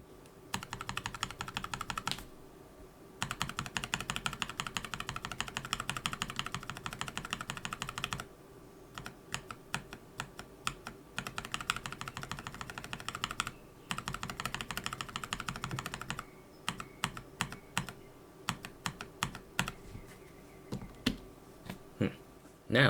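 Novel Keys cream switches lubed with Lube 3G and filmed, typed on a keyboard in steady close bursts of crisp clacks, with brief pauses between runs and no talking.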